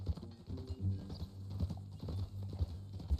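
Horse hooves clip-clopping at a steady walking pace in the Red Dead Redemption video game, rhythmic low thuds with quiet ambient background.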